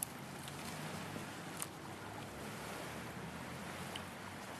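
Gulf beach surf at high tide washes in a faint, steady rush, with wind buffeting the microphone and no voices.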